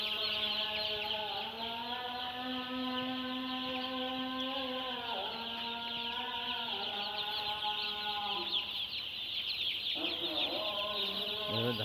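Broiler chickens crowd a poultry shed, and a dense chorus of clucks and drawn-out calls overlaps continuously at close range, shifting in pitch throughout.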